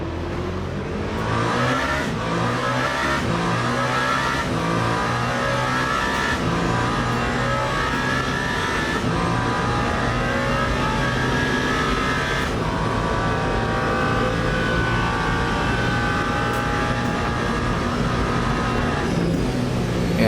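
Porsche race car engines in Le Mans Ultimate drone loud and close at the start of the 24 Hours of Le Mans, with sustained revving, gear changes and rising pitch sweeps as several cars run together.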